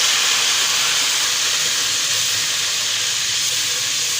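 Garlic-ginger paste fries in a pan as it is mixed into a tinda curry base, making a loud, steady broadband hiss of sizzling oil that holds unbroken throughout, with no talking.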